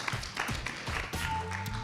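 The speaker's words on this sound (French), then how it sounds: "Applaudissements et encouragements également pour lui." Applause and cheering from an audience at the closing plenary of an entrepreneurs' forum, a broad, steady wash of many hands clapping that continues through the whole short stretch, with a few raised voices mixed in.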